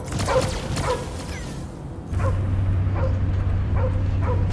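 A dog in the Guardians of the Galaxy video game barks in a series of short, evenly spaced yaps over a low rumbling game soundtrack, close and fairly loud.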